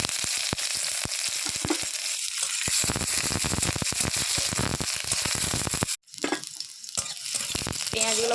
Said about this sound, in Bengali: প্রথমে পেঁয়াজ ভেজে নেব